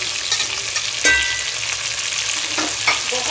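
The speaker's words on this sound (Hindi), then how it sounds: "अब इसके अंदर मैं ये टमाटर जो मैंने रखे हैं ये शामिल करूँगी।" Tomatoes hit hot oil with cinnamon and bay leaves for Sindhi pulao, giving a steady close sizzle with a sharp burst as they land and occasional stirring scrapes in the pan.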